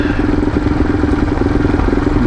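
Motorcycle engine droning steadily throughout a ride on Gravity Down Road, loud and close with a rough, pulsing low rumble and clatter, no talking.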